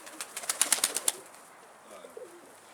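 A rapid burst of wing flaps from a pigeon throwing itself into its coop, about ten quick beats in a row, followed by quieter shuffling and a faint coo.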